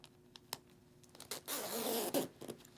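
A double zip runs down the centre of an Icon Neo Daytona 2 mesh motorcycle jacket. It gives a few faint ticks, then a close, steady zipping rasp lasting under a second, then a short second pull and some light clicks.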